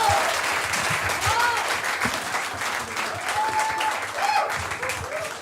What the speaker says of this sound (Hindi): जोरदार तालियां हो जाए हर्ष गुजराल के लिए, जोरदार तालियां।